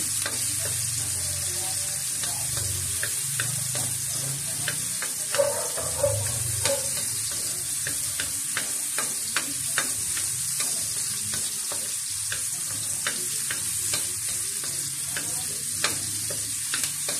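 Garlic, onion and tomato sauté in a pan for ginisang sayote, giving a steady close sizzle broken by frequent scraping clicks of a spatula stirring, with no talk.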